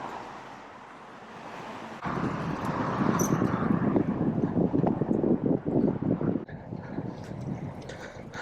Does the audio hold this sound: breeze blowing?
yes